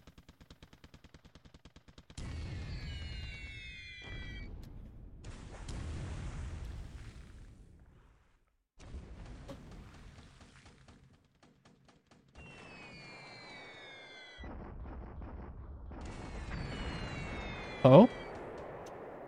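Bomb blasts and gunfire from a naval air attack in the War in the Pacific strategy game, bursts of booming, crackling explosions with whistling streaks recurring in several loud clusters, separated by brief lulls, a short sharp bang near the end.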